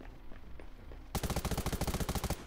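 Rapid automatic gunfire in the video game Undawn, a loud close burst of evenly spaced shots after a quieter stretch of game ambience.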